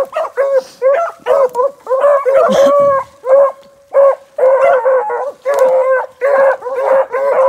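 A young female hound puppy, about two and a half, bays and yips in repeated short bursts while working a scent track outdoors, her voice close, loud and rising into longer drawn-out howls.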